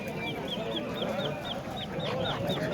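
Japanese Bantam chickens cluck and chirp at a busy poultry market, with repeated short calls over a steady crowd murmur and nearby voices.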